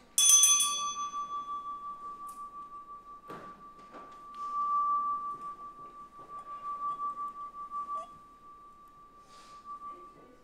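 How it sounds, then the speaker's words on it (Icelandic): Bell rung at a Reykjavík city council meeting, a single bright strike that rings on with a long, steady sustained tone through the whole stretch, fairly faint against quiet room noise and occasional small knocks. "það er hin bjallan, það er rétt"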